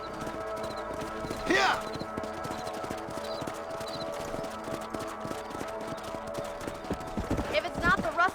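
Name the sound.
horses galloping, clip-clop hooves, Red Dead Redemption video game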